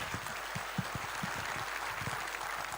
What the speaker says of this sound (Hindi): तो सागर के लिए एक बार तालियां आप लोग बजा दीजिए